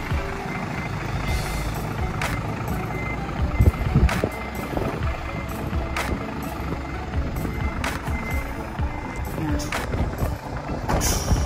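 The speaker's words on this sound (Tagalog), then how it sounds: "so babalik niya na yung sasakyan." A garbage truck reversing at a waste disposal site in Japan, its backup beeper sounding in a steady repeating rhythm over a rumbling engine, with brief voices in the background.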